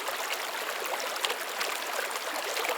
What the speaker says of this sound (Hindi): कल कल बहती पुण्य सलीला शिप्रा नदी